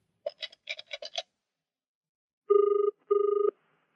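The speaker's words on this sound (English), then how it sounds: "It was ringing. A man answered the phone." A telephone being dialed and then ringing: a quick run of keypad beeps, a short pause, then two long, steady ring tones, clear and alone.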